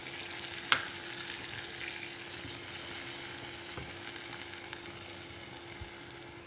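Upma semolina sizzles steadily as it is fried and stirred in a nonstick pan for pesarattu. The close, even crackle continues throughout, with a few faint scrapes and taps from the stirring.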